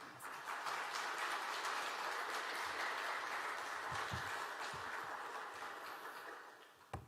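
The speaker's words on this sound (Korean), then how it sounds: "크게 환영의 박수 같이" A church congregation claps steadily and enthusiastically in welcome, a sustained wash of applause that fades slightly toward the end.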